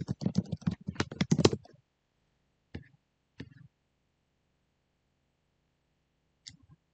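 A research query being typed on a computer keyboard: a quick flurry of close key clicks for under two seconds, then a few isolated taps spread apart in near silence.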